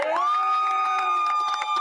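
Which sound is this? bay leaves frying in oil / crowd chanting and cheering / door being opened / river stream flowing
crowd chanting and cheering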